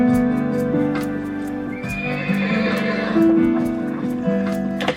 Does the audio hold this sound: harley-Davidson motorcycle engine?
no